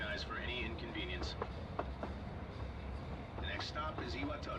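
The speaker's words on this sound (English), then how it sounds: "This is the final train bound for Tatsumi Port Island." Passenger train interior from the video game Persona 3, with a steady rolling rumble and faint rail clatter while a station announcement voice speaks over it.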